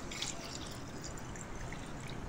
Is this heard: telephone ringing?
no